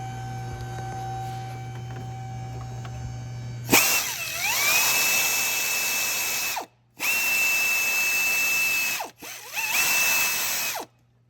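A power tool whirs up and runs in three sustained bursts with brief pauses between them, removing a 17mm bolt on a Honda J35 3.5L engine during timing belt and water pump work, loud and close.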